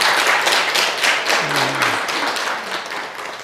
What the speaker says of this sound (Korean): 그 박수를 한번 주시기 바랍니다